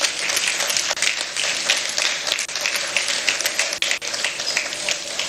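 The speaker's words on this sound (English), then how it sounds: "I believe we can make the applause a bit louder for the Honorable Minister." Brisk, crackling applause for the Honorable Minister at a press briefing, many hands clapping steadily and close, sustained without pause.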